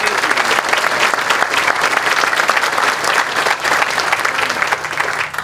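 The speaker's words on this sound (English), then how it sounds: "please give them a round of applause" Crowd applause at an outdoor veterans park dedication honoring town council members, dense and continuous clapping from many people at steady loudness for the whole stretch.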